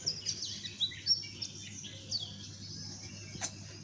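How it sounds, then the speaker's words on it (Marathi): Small birds chirp and tweet in quick, scattered bursts, fairly faint against a quiet background. "पक्ष्यांचा आवाज"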